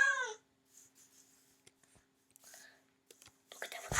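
In the Minecraft video game, a cat gives a short meow at the start, followed by sparse game clicks and faint murmuring, then a louder burst of mixed noise at the end.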